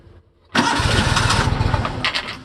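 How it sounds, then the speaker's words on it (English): Simplicity Legacy 20 lawn tractor engine cranking and catching after a quiet start, then running loud and steady at close range with a rough mid-range rumble. "And it does crank with the cruise engaged."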